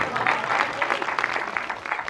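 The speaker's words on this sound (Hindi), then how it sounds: "सबकी तालियां एक एक लाइन पे बजनी चाहिए" Brief, lively applause from a comedy show audience watching a stand-up comic and poet: a dense patter of many hands clapping at once, close and continuous.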